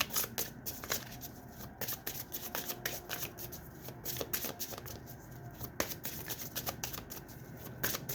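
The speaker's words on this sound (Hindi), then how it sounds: "हम कार्ड शफल कर लेते हैं।" Tarot cards shuffled by hand in a steady run of crisp riffling and slapping, close and continuous, with a soft low rumble underneath.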